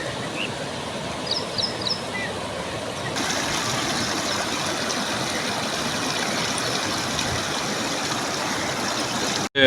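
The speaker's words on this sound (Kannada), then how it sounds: "ನದಿ ವ್ಯಾಪ್ತಿಯಲ್ಲಿ ಮಳೆ ಜಾಸ್ತಿ ಆಗ್ತಾ ಇರೋದ್ರಿಂದ ನದಿ ಮಟ್ಟ ನೀರಿನ ಮಟ್ಟ ಏರ್ತಾ ಇದೆ" The Krishna river in flood rushes past Kudachi bridge with a loud, steady roar of fast water, broad and unbroken, growing fuller after the first few seconds.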